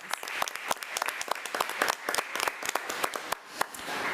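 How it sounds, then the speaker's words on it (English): An audience at a school board meeting claps steadily for a student, a dense, even round of applause with scattered sharp individual claps that holds for several seconds before tapering slightly. "let's give Braxley another round of applause"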